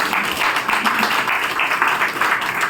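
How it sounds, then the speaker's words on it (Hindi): An audience at a Brahma Kumaris Rajyoga class applauds, a dense, steady patter of many hands clapping at moderate volume throughout. "तो अपने लिए थोड़ा तालियां"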